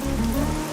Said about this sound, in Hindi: ये बारिश है कि रुकती ही नहीं है